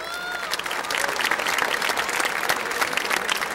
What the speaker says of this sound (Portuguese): Uma salva de palmas para o professor Laí.